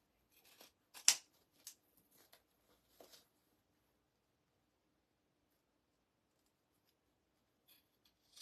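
Scissors snipping through craft material for a Halloween cat wreath: a few sharp, close cuts clustered early, then near silence with a couple of faint snips at the end.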